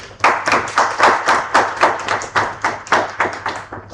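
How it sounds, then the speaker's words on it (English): An audience at a Databricks user group meetup in Jaipur claps together, a close, dense burst of applause with rhythmic surges that fades after a few seconds. "Give yourself a big round of applause."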